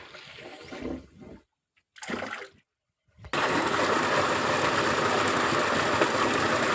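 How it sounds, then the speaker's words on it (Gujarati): Pump-fed water gushes into a farm field channel: after a few seconds of patchy splashing and short silences, a loud, steady full-band rush of pouring water takes over and continues to the end. "આપણે અહીંયા પાણી ચાલુ થઈ ગયું છે ને આ પાણી જાય છે ગદપમાં"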